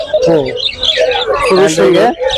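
Parakeet chicks at a bird market in Hemayetpur, Savar, give close, repeated shrill chirps and squeaky whistles in quick bursts, with little pause between calls.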